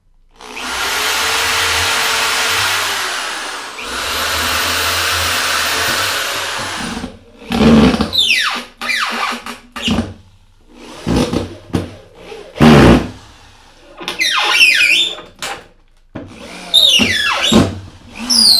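Power drill driving screws into a plywood plyo box board, with two long steady whirring runs followed by shorter bursts, knocks and squeaks of the wood as screws bite in, close and loud.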